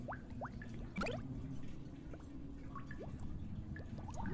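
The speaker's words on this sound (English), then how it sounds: "The dripping of the water." Water drips inside a tunnel, faint scattered plinks at an irregular pace over a low, steady background rush of moving air.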